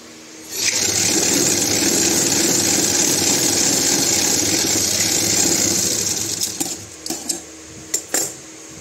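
A sewing machine running a double stitch along a seam on a child's churidar sleeve, a close steady mechanical whir for several seconds, then slowing into short stop-start bursts and clicks.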